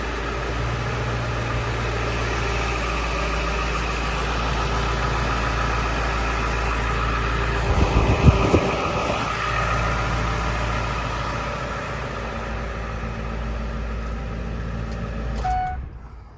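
A 2003 Ford 7.3 Powerstroke turbo diesel Lariat dually pickup idles cold just after starting, giving a steady, close, rumbling drone with diesel clatter that holds evenly throughout, with a brief louder swell midway and no talk.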